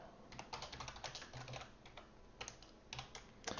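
Rapid typing on a computer keyboard, with clustered key clicks in quick irregular bursts and short pauses, fairly close and quiet, with no voice over it.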